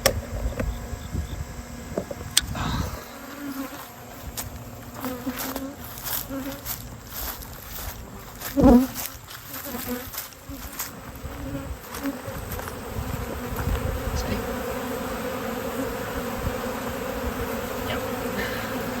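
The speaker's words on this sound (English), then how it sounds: "let the bees rob it out, you know, a couple 100 feet away" Swarm of honey bees robbing honey from removed comb outdoors during an open-air hive removal, a dense continuous buzz with occasional close fly-bys and some brief movement noise.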